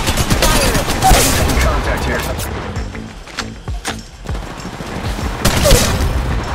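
Rapid gunfire in Apex Legends Mobile rattles in dense bursts with sharp cracks, dips briefly midway, then resumes, while a voice talks over the action.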